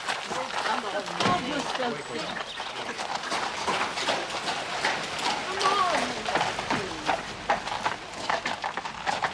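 Horses' hooves clip-clop steadily along a street with birds calling in the background, while people talk over the sound.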